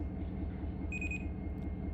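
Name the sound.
end-of-train device beeping in Run 8 Train Simulator video game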